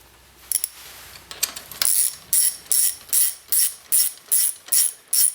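Bolts being tightened on a G2 Ergonomics Mongo handguard mount give off several quick ratcheting click bursts in a steady rhythm, close and fairly loud, after some softer handling noise at the start.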